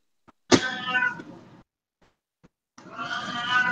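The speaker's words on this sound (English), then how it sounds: "It's every 3 seconds and he yowls." A cat yowls loudly up close, a long drawn-out cry, falls silent for a moment, then starts another long wail.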